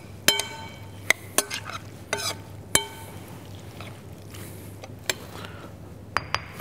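A Palestinian salad tossed in a bowl: sharp utensil clinks and taps come in scattered bursts, with soft stirring rustles between them and no talk.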